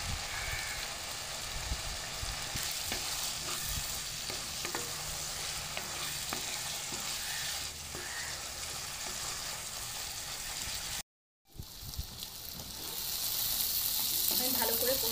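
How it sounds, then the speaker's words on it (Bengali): Spices and chopped tomato sauté for a tangra fish curry, a dense, rain-like sizzle with frequent stirring scrapes, briefly cutting out before the frying resumes louder. "এবার আমি ভালো করে কষিয়ে নেব। এবার দিচ্ছি টমেটো কুচি।"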